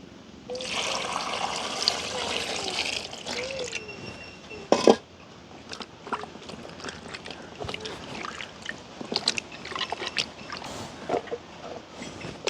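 Large chili peppers are washed by hand in water, giving splashing, sloshing and trickling with occasional knocks; a louder rush of water comes early, then the sounds turn to scattered, uneven splashes.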